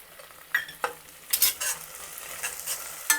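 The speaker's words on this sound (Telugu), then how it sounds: "ఉల్లిపాయలు ఎర్రగా అయ్యే వరకు వేయించుకోవాలి." Onions and finely chopped coriander frying in a pan for Hyderabadi paneer curry, with a soft sizzle broken by a few scrapes and stirs of a spoon, close by and with no voices.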